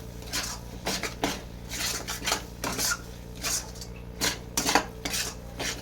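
Spice masala with salt sautéing in a metal pan, heard as repeated scraping and clinking strokes of a spoon against the pan in an uneven rhythm, close and moderately loud with no talking.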